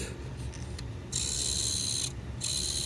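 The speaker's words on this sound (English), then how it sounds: "all it is a little motor that spins with a gear on it against a piece of plastic" A small motor in a vintage toy TIE fighter whirs, its gear grinding steadily against plastic; the buzzing starts, cuts out briefly, then resumes, close and fairly loud.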